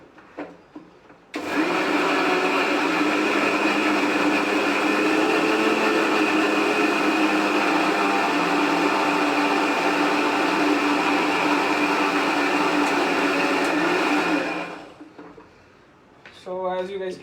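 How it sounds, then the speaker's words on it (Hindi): A kitchen blender grinding green onion into a paste, with a steady loud whirring drone that runs for about thirteen seconds before winding down, and brief faint sounds at either end. "ये ग्रीन अनियन जा रहा है मिक्सी में, मतलब ब्लेंडर में, और उसका पेस्ट बनेगा फटाक से"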